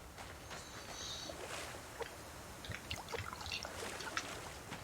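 Water trickles faintly and steadily for several seconds as a drink is topped off, quiet and close with no talking.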